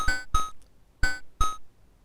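Four short, bright notes from a Kastle Arp synthesizer arpeggio with a very short envelope, two in fast succession, a pause, then two more.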